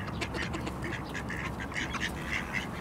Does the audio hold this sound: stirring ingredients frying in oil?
no